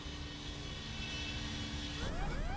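Airliner engines roar steadily at increased power during a troubled flight near mountains, a dense continuous drone with a rising whine appearing toward the end.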